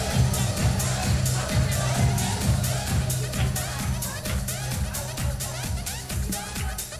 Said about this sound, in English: Come on, cheer for her.